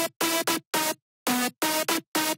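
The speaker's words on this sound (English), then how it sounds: "and with effect it sounds like this" A processed melodic drum and bass synth lead with effects, made in FL Studio, plays a bright, wide phrase of about seven punchy stabs with short silent gaps between them.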